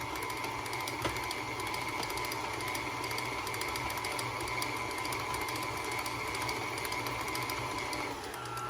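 An electric mixer hums steadily and continuously at close range while creaming butter and sugar for cookie dough, a whirring motor drone with a faint rhythmic rattle.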